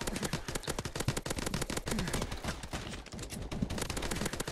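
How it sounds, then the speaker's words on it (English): Rapid, continuous gunfire aimed at a Goliath mech in Call of Duty: Advanced Warfare EXO Survival, a loud, dense stream of shots and bursts that runs without pause throughout. "I'm just firing at this Goliath"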